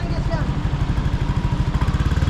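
A Yamaha Aerox V1 scooter fitted with a swapped Sniper V3 engine runs at a steady, rapid low thump, close and loud, with voices faintly under it.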